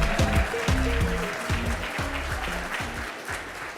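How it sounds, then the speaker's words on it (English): Audience applause at the NAHJ Hall of Fame awards ceremony, steady clapping throughout with strong tonal music, likely a band or playback, running loudly over it. "One more round of applause,"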